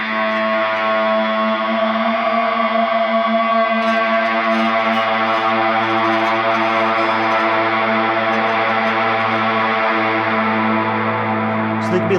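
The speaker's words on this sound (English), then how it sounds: "using this thing called an E-bow, which is essentially like electronic bow" An electric guitar sings long, sustained bowed-like notes, smooth and swelling, drenched in reverb and wavering tremolo with no attack on each note.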